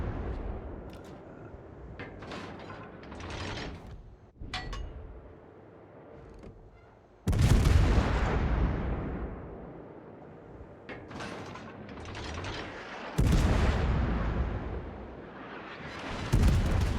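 A Des Moines cruiser fires HE shells in the World of Warships video game, with three loud, booming salvos that each roll off into long rumbling tails, and lighter scattered gunfire between them.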